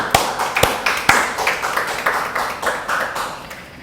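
A worship congregation at a Korean Wednesday church service claps in a steady rhythm, about a dozen sharp, evenly spaced claps filling the space with no voices over them.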